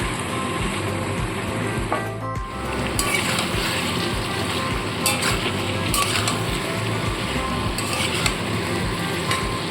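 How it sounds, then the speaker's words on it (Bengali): Fried hilsa fish head being stirred in oil in a pan, with a steady loud sizzle and occasional scraping knocks of the spoon against the metal, and no one talking. "ইলিশ মাছের মাথা তেলটা দিয়ে একটু নাড়াচাড়া করে নিয়ে আবারও ঢাকা চাপা দিয়ে রেখে দেবো"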